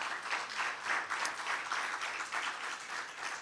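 A church congregation applauds the Lord in a steady, dense wash of clapping from many hands, continuous and fairly loud from start to finish.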